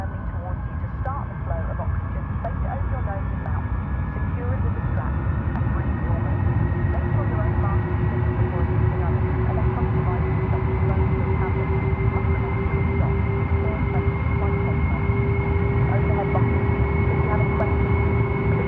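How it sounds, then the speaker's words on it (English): Concorde's Rolls-Royce Olympus engines spooling up on the ground, heard from inside the cabin as a loud, steady roar with a rising whine, while a crew safety announcement plays over it. "the crew gave the safety demonstration and the Rolls-Royce Olympus engines fired up. Just listen to these."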